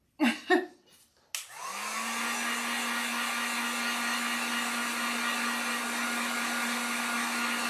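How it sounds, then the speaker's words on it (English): A heat gun blows over freshly brushed acrylic paint on a spring sign, a steady, loud hot-air whoosh with a humming motor tone that starts after a few brief clicks and handling noises and runs on without a break. "throwing our heat gun on that one"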